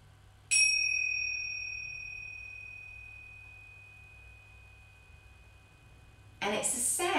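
A small pair of tingsha-style meditation bells is struck once with a bright metallic ding that rings on and slowly fades over several seconds, before a person starts talking close up.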